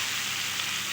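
Potatoes and elephant foot yam sizzling in hot oil as they are stir-fried for a Bengali dal curry, a steady, close, dense crackling hiss with no pause.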